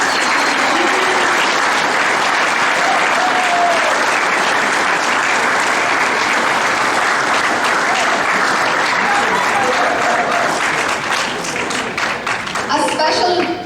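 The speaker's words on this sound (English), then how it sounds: "So let's give Mr. Faltis, Miss O'Mara, Mr. Guy, Mr. Rivers, and Mr. Renier a huge round of applause" A large crowd at a school graduation gala gives staff members a sustained, loud round of applause, dense continuous clapping with some cheering mixed in, easing slightly toward the end.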